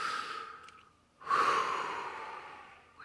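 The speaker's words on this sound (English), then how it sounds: "just take a breath." One deep breath is drawn in and then let out as a long, close, breathy sigh that slowly fades, with no talking over it.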